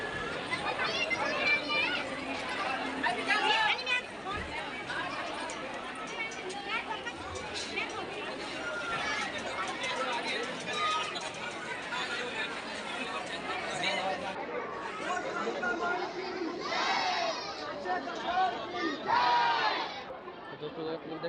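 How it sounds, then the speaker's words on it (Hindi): A large, dense crowd at a temple in India, with continuous loud chatter and overlapping voices, shouts and calls rising in bursts throughout, busy and close. "तो दोस्तों आप लोग देख सकते हैं कितनी भीड़ लगी पड़ी है।"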